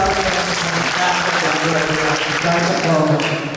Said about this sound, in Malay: kita berikan tepuk tangan dulu bagi Allah kita yang hebat